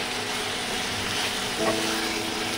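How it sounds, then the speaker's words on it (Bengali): Chicken pieces fry in a pan, giving a steady close sizzle with a short clink of stirring near the end. "চলো ফ্রাই করে নিয়ে একদম সুন্দর করে ফ্রাই করব যাতে মাংসটা আর কি সেদ্ধ হয়ে যায় ফ্রাই করতে করতে।"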